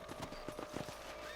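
Horse hooves clip-clop in an irregular walking rhythm in the video game Red Dead Redemption, light and close over a steady background hum.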